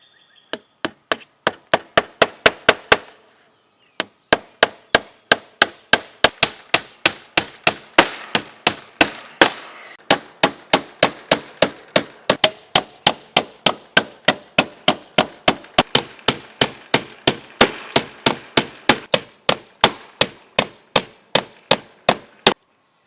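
A hammer drives into a rotten wood window sill being replaced with vinyl, making loud, sharp, close blows in quick, steady runs. There is a brief pause after the first burst, then long continuous sequences of strikes.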